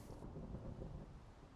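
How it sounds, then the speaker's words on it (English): Thunder from lightning in Minecraft Bedrock Edition rumbles as a low, dull roll mixed with rain-like hiss, fairly quiet and alone. "That lightning is heavy, isn't it? Yeah, it's loud as hell."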